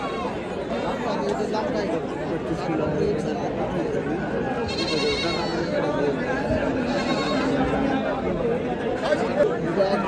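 Sheep and goats, including lambs, bleat repeatedly at a large livestock market, with loud calls rising over dense crowd chatter and people talking nearby.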